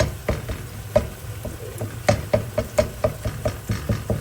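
Masala for palak aloo sautéing in a pan, a soft sizzle broken by repeated sharp taps and scrapes of a spatula against the pan in an uneven rhythm.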